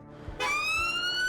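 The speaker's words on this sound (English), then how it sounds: "We're coming on blue lights and sirens." An emergency vehicle siren on blue lights, a loud rising electronic wail that starts abruptly and sustains with a steady pitch sweep, close by.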